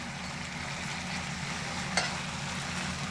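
Pasta frying in a pan, a soft steady sizzle with faint stirring scrapes and one brief click partway through.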